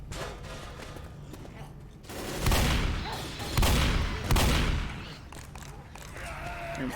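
M14 rifle fire in the video game Left 4 Dead cracks out in three heavy, separate bursts over a steady background of game noise, each shot loud and close.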